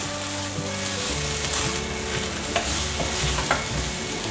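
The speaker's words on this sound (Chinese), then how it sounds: "快速翻炒，炒到现在看起来芋头有点微焦了" Taro and shiitake mushrooms stir-fried in a non-stick wok, a loud steady sizzle with repeated spatula scrapes and taps across the pan, close by, a low hum beneath.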